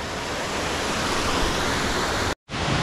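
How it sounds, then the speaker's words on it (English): Kathu Waterfall in the Phuket jungle pours as a loud, steady broadband roar, near and continuous, cut by one brief silent gap before resuming. "This is the real waterfall."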